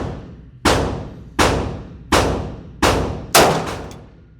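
Five sharp, loud shots from a Glock 19X pistol fitted with an S-Pro brace, fired at an even pace of roughly one every three quarters of a second, each followed by a ringing decay, with no talking.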